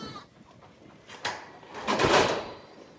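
Goats bleat nearby, a drawn-out call rising over a soft outdoor background, with a brief knock or clatter just before it.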